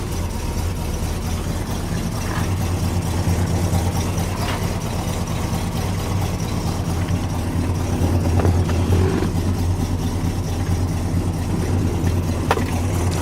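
A Chevrolet Monte Carlo with a 350 V8 rated at 245 hp idles steadily, making a low, even rumbling drone heard close up and alone, with no voices.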